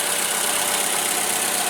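A 2014 Toyota RAV4 XLE AWD with a 2.5-liter four-cylinder engine idles, a steady even hum with broadband hiss, close and constant with no talk.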